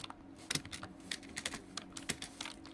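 Light, quick keystrokes on a computer keyboard as someone types a short line of beginner C code. The clicks come in uneven bursts, close but soft, over a faint steady hum.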